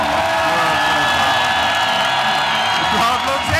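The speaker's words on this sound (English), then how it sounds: "The crowd loves it." A crowd at an Oktagon 40 MMA fight cheering and applauding, a loud sustained roar with whoops filling the arena without break, voices shouting through the din.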